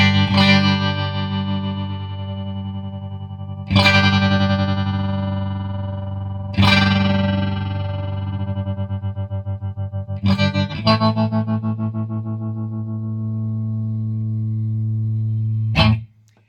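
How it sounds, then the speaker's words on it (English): Electric guitar chords ring through a Vox Defiant amplifier with its tremolo effect switched on, five loud strums that sustain with a rapid pulsing wobble before the last one cuts off sharply. "tremolo, you just activate it if you start to"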